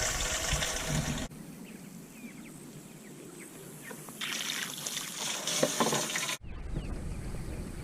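A garden hose run up from the barn spills water for livestock outdoors, a steady broadband rushing trickle that holds throughout, briefly quieter in the middle and swelling again before the end.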